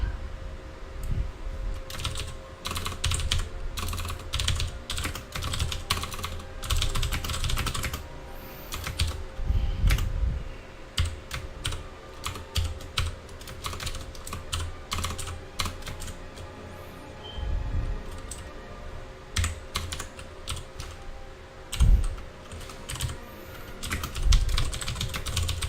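Computer keyboard typing while writing code, a steady run of quick, fairly close key clicks with short pauses and occasional louder keystrokes throughout, no talking.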